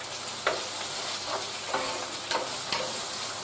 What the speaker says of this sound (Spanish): Ya están pochaditas las cebollas y los ajitos, vamos a pocharlo todo junto.